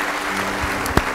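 A church congregation claps at a sermon, a brief, dense burst of hand-clapping that fills the room with one sharper clap standing out near the end.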